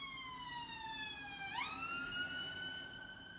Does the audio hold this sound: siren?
yes